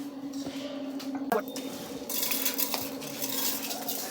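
Metal clinks and scrapes of a spoon against a pressure cooker, followed by soft wet tumbling as broad beans, rice and other pongal ingredients are tipped in, close and fairly quiet.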